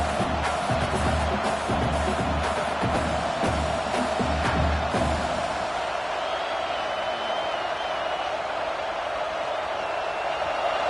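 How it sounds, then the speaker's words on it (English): A stadium crowd roars in a College Football video game as the home defense tries to keep Oklahoma pinned deep, a loud sustained swell of cheering that later thins to a steady murmur. "The roar of the crowd trying to fuel this defense to keep them pinned in their own end"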